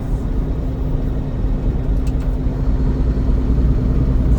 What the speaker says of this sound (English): they just like to hear the truck going down the road